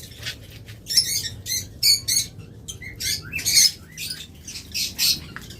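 Red-eyed, red-headed lovebirds chirp and squawk in bursts of shrill, rapid calls, several birds close by, with brief pauses between flurries and no talking.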